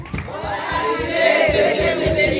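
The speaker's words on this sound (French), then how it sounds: "On acclame le Seigneur pour notre soeur." A church congregation in Geneva cheers and acclaims together, a sustained dense crowd roar with raised voices that holds steady and swells slightly toward the end.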